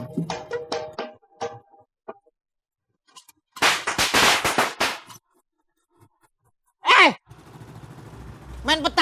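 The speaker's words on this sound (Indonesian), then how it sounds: "Main petasan ntar malam, tengah hari bentek lu main petasan." Several sharp firecracker bangs pop in bursts, loud and close, between stretches of people talking and a pained groan.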